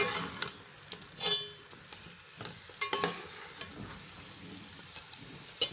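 Masala and chicken for a desi murga curry being stirred and fried in a pan over medium heat, a soft steady sizzle with scattered scrapes and clinks of the spoon.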